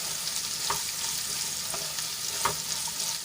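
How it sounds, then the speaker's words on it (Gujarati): Cut kankoda (spiny gourd) stirred into hot oil with sautéed garlic, giving a steady close sizzle with a few soft scraping stir strokes and no talk. "એમાં આપણે કટ કરેલા કંકોડા એડ કરી લઈશું અને સરસ રીતે તેલમાં મિક્સ કરી લઈશું"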